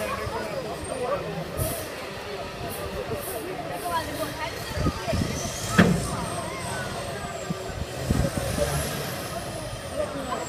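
A vehicle driving down Lombard Street in San Francisco, with a steady hum of engines and traffic and a brief hiss like an air brake, under the chatter of nearby people.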